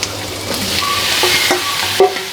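Marinated paneer frying in butter with garlic in a kadai, a steady close sizzle with occasional scrapes and clinks of a stirring spoon against the pan.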